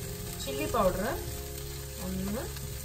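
A tomato and chilli powder masala for Kerala prawn curry fries in a pan with a steady hiss, while two brief tonal sweeps rise above the sizzle.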